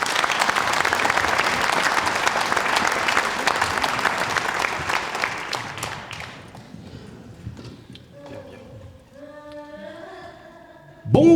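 Cabaret audience applauding a performer's entrance, a dense burst of clapping that fades out after about six seconds, followed by quieter voices and tones.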